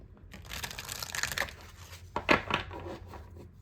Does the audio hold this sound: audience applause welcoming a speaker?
no